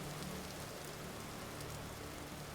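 Steady rain falling in the video game Vintage Story, a quiet, continuous even hiss of drops with no talk over it.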